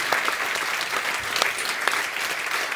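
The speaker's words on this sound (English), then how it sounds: "each one of you deserve a massive, massive round of applause" Audience applause fills a hall at an international head and neck cancer conference, a steady broadband wash of clapping held at an even level with a few sharper claps poking through, no voices heard.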